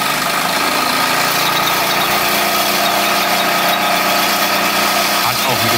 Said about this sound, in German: Und jetzt wollte ich die Maschine doch eigentlich nochmal so mit richtig Kraft laufen lassen hier.